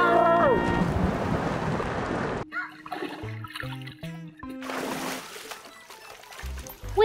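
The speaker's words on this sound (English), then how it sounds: "Sounds like someone's splashing at the pool." Water splashing in a swimming pool in an animated cartoon: a loud, rushing burst for a couple of seconds, then quieter watery sounds under bouncy music.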